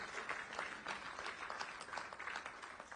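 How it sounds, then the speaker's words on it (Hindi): Audience at a business and trade dialogue event in Rajasthan applauds a guest's welcome; soft, distant clapping from a crowd comes in gentle waves, steady and faint throughout. "इसके लिए जोरदार तालियों के साथ CR पाटिल जी का स्वागत।"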